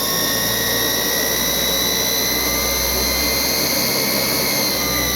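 An electric motor whines loudly and steadily at high speed, its tone edging slowly upward over a continuous rushing roar with no voices.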